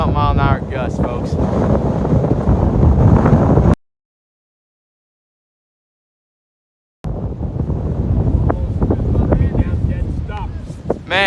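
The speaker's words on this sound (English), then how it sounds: "30-something mile an hour gusts, folks." Strong gusts of wind, around thirty-plus miles an hour, buffet the microphone outdoors with loud, rough roaring that cuts out briefly in the middle and then returns.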